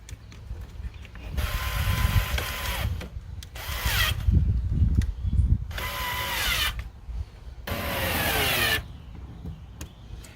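A power drill drives screws into a camper trailer wall in three or four close, loud bursts of whirring, with ratcheting clicks and handling noises in the pauses between.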